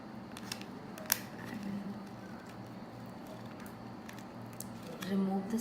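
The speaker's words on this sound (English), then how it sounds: "And what I have is a special tacky tape scissor." Scissors snip through tacky tape with a few sharp, crisp cuts over a quiet room background, with faint movement sounds around them.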